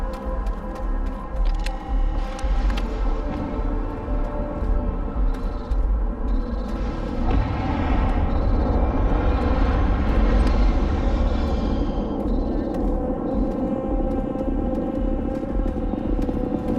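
A spaceship in the video game Starfield descends to land nearby, producing a loud, sustained engine roar and rumble that swells toward the middle and holds steady without speech.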